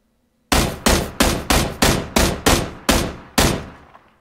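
Gunfire in PlayerUnknown's Battlegrounds: nine sharp, loud shots in a steady rhythm roughly every third of a second, each with a short decaying tail, then a faint final report.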